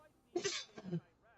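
A single person's sneeze, a short sharp burst with a brief voiced intake just before it, close and fairly loud over a faint hum from a game's background sound.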